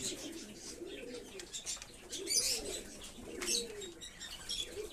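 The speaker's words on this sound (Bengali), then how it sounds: "এই হলো হালচাল পায়রাগুলোর আর কি" Soft, low pigeon coos rise and fall in repeated rounds, with faint chirps and light rustling in the background.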